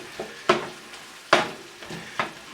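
Sardines and anchovy fillets for sardine pasta, broken up and stirred in a pan: a few distinct, close scraping strokes over a light sizzle.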